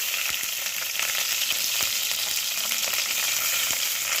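Cumin seeds and green chillies fry in hot oil left over from making bajjis, a loud, steady hiss broken by sharp crackling pops, with nobody talking.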